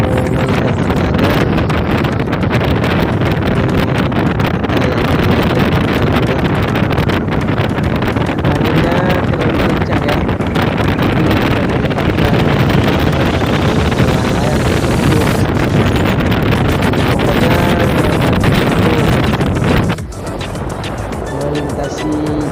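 Steady broadband rumble of a ferry engine on deck, Aceh Hebat 2, mixed with gusty wind buffeting the microphone, loud and continuous, easing slightly near the end.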